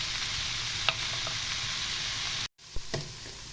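Mushrooms and onions sizzle steadily in a frying pan, a constant hiss with a few light spoon scrapes; the sound cuts out briefly, then returns with a couple of louder stirring knocks.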